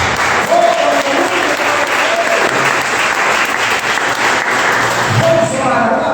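Congregation applauding during a family church service, a steady dense wash of clapping filling the room throughout, with faint voices mixed in beneath.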